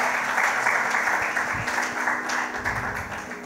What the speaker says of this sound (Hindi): सारी औरतों के लिए तालियां एक बार तो,